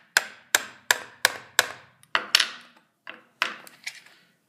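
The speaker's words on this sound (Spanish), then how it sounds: "con la piedra vamos a darle unos golpes" A stone strikes the back of a knife blade wedged into the seam of a plastic charger case, giving about ten sharp, close taps in a loose, uneven rhythm with short pauses, all without any voices.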